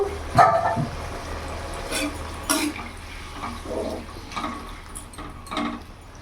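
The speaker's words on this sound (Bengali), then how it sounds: "এখন এর মধ্যে আমি অল্প একটু জল অ্যাড করব বেশি না ওই হাফ কাপের মতো" Roughly half a cup of water poured into a cooking pan of Bengali lau shukto (bottle gourd curry), a soft, uneven splashing and trickling that comes and goes over several seconds with no talking.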